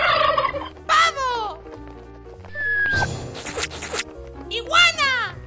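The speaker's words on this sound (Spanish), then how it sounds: "¡Pavo!" A turkey gobbles several times in quick, rattling bursts, loud and close, alternating with a voice speaking and cheerful children's-style music underneath.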